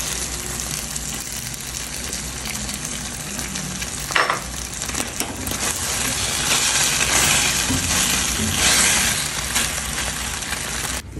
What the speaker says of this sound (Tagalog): Luto ng ating pork sweet and sour.